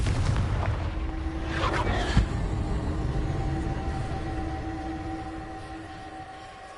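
A Confringo fire spell bursts in Hogwarts Legacy gameplay, a whooshing blast with a sharp crack around two seconds in, over a dense rumbling game soundscape that fades slowly.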